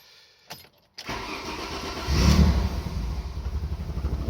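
An Alfa Romeo 156 V6 starts after a year of sitting, with a brief starter crank, a catch, and a rising roar that settles into a steady, close idle.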